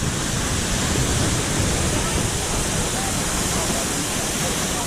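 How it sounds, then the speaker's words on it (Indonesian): Sikulikap waterfall near Brastagi in North Sumatra roars as a steady, loud broadband rush of falling water, constant throughout without breaks. "Apa yang kamu rasakan, Yud, kalau di air terjun?"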